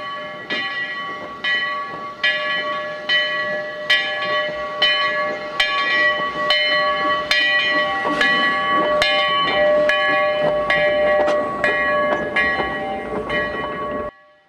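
The Glenbrook steam locomotive rolls back to its roundhouse, ringing its bell in a steady, evenly spaced clang over a low rumble of moving rail equipment, fairly loud and close.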